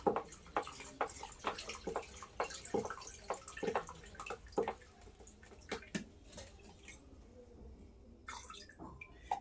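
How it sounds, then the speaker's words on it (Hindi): Phenyl concentrate is poured into two litres of water and stirred, giving repeated soft sloshing and splashing strokes in a steady rhythm, close by, that fade toward the end. "डालते रहना और हिलाते रहना इसको।"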